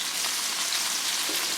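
Minced garlic and zucchini noodles sizzle in a hot pan, a steady, dense crackling fry that holds evenly throughout at moderate level with no voices.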